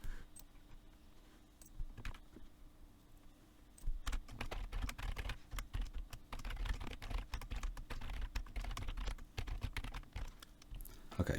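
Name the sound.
typing code on a computer keyboard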